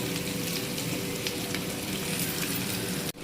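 Sliced onions with salt frying in a pan for a dried fish curry, a steady, close, crackling sizzle that runs unbroken, with no talking.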